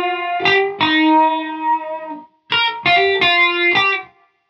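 Guitar through a Spaceman Meridian Time Modulator pedal on a high-regeneration setting, with loud, harsh metallic notes ringing in two bursts of several strikes each, separated by a short gap.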